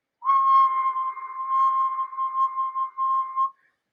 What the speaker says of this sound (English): I found out that a whistle like this